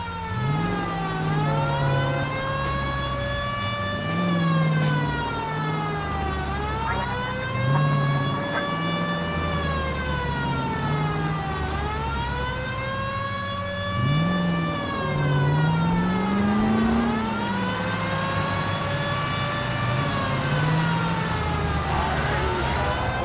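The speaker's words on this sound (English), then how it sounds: "Turn on the siren and pull her over." A police car siren in the video game LA Noire wails loudly and continuously, sweeping up and down in long repeating cycles over a steady engine drone, with no voices.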